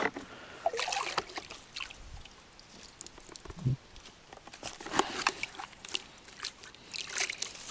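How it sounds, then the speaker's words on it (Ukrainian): Water scooped and sloshed by a riverbank while carp fishing, with soft trickles and splashes, a brief low thump near the middle, and scattered small knocks throughout. "Давайте набираємо водички і карасика посадимо."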